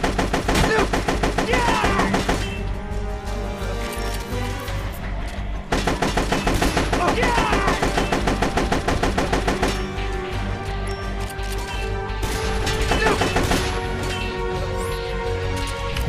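Rapid automatic gunfire from the video game Metal Gear Solid: Peace Walker, dense sustained bursts over a continuous music-like game soundtrack with no gaps.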